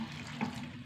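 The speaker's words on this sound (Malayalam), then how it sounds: "കുറച്ച് വെള്ളം ഒഴിച്ചു കൊടുക്കാം" Water splashes and trickles steadily for a moment, a soft continuous pour close by in a quiet room.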